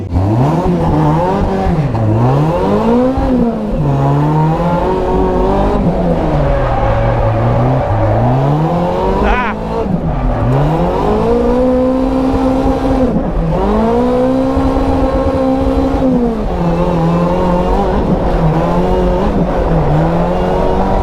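A supercharged Toyota AE86 drifting laps, its engine loud and close, revving up and down in repeated swells with wavering pitch as the throttle is worked through slides.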